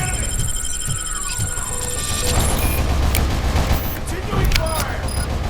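Rapid bursts of gunfire and booming impacts rattle through a RoboCop: Rogue City firefight, loud and continuous, with a voice calling out over the shooting.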